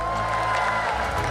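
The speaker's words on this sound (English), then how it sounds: "A round of applause, ladies and gentlemen" Dense audience applause and cheering fill a live esports award ceremony for the MPL Malaysia Season 17 playoffs, a continuous loud wash of clapping from a large crowd.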